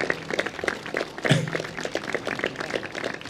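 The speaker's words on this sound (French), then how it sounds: "Voilà, on peut l'applaudir." A crowd at the outdoor inauguration of Menton's new seaside promenade applauds officials, giving steady, dense clapping throughout with one brief louder thump near the middle and no clear talk.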